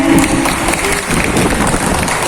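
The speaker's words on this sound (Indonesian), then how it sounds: "boleh dong tepuk tangannya" Audience applause in a hall at a national bus-operator event, a dense steady wash of clapping mixed with crowd noise and a voice over it near the start.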